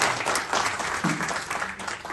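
An audience applauding together in a sustained, even round of clapping that lasts the whole moment without pause.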